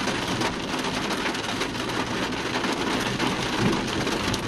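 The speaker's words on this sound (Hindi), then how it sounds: "बड़ी ठीक ठाक बारिश हो रही है" Steady rain pours down in the mountains near Taobat, a dense, even hiss close by with a faint low rumble beneath and no voices.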